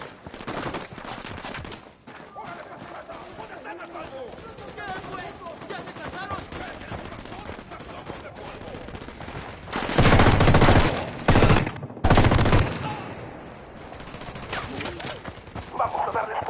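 Rapid machine gun bursts rattle in the tactical shooter Ghost Recon Wildlands, with sustained heavy volleys peaking midway amid in-game chatter and background action.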